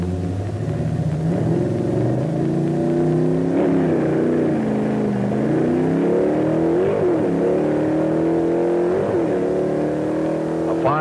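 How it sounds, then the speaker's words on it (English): A Hurst-equipped Oldsmobile super stock drag racing car on a quarter-mile run, its engine rumbling and revving in rising and falling pitch sweeps, loud and continuous throughout. "Dick handles his Hurst-equipped Olds super stock over the quarter mile like a veteran"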